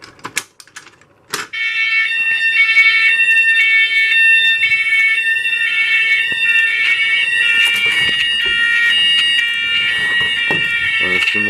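A fire alarm horn honks continuously during a building fire alarm system test, loud and close, a steady harsh tonal blare after a few opening clicks, with scattered knocks and faint talk beneath it.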